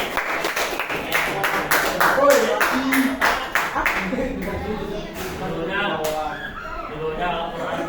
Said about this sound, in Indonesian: kasih tepuk tangan dong untuk saya